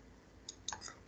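Computer mouse clicking while adjusting a bouncing-ball animation exercise: several quiet, sharp clicks in a small irregular cluster, close to the microphone and faint overall, with no talking.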